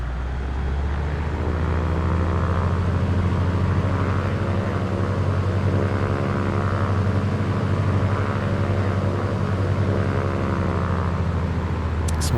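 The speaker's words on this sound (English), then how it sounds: "Taxiing to general aviation parking via taxiway Foxtrot." A simulated aircraft taxis in Microsoft Flight Simulator 2024, a steady, loud engine drone with a constant low hum and propeller tone, unbroken for the whole stretch.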